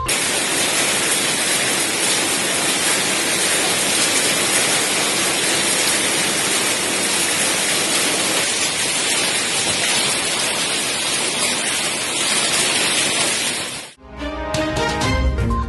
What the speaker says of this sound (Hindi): जिला मुख्यालय में भी लगभग 45 मिनट तक तेज हवा धुंध के साथ बारिश होती रही